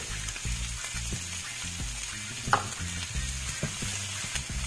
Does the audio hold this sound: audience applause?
no